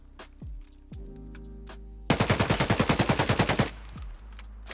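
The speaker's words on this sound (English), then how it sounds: "This is the gun shooting." Automatic gunfire from a weapon in the Escape From Tarkov video game: a loud, rapid burst of about fifteen shots lasting roughly a second and a half, preceded by softer clicks and mechanical handling sounds.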